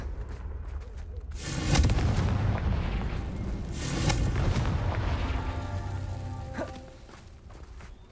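A Confringo blasting spell explodes in the Hogwarts Legacy video game, producing two heavy, rumbling booms a couple of seconds apart over a dense roar that fades into a quieter tail with faint ringing tones.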